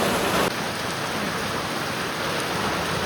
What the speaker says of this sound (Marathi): आज भयंकर पाऊस आहे.